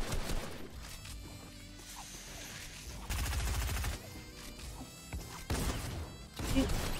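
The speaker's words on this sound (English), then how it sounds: "I just hear them shooting." Fortnite gunfire crackles in bursts, some rapid and fusillade-like, others single sharp cracks, set against game effects and background music at moderate volume, with a voice speaking between volleys.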